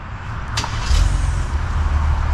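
A 2025 Ram 1500 Crew Cab 4X4 Limited starts by remote start: a brief cranking burst, then a deep, steady idle rumble close by.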